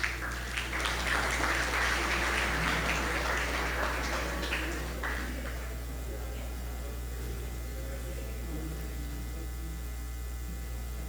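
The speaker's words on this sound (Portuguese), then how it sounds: "Aplausos para o Mauro." An audience claps for a speaker at an evangelical testimony gathering, with applause loud for about five seconds before fading into a steady background hum.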